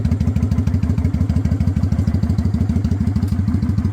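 A motorcycle engine idles close by, holding a steady, rapid, low-pitched thumping pulse throughout, loud and alone with no talk.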